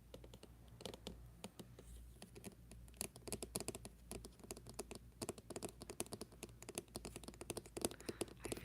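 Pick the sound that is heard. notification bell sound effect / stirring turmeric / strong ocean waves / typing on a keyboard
typing on a keyboard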